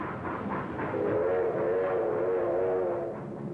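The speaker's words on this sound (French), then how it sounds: "Des vieux trains sont montés sur place, chargés de fret et envoyés." Old freight trains rumble past with a low, rolling roar, and a steady horn or whistle tone rises through the middle of the passage, loud and fairly close in an old recording.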